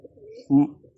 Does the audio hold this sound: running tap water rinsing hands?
no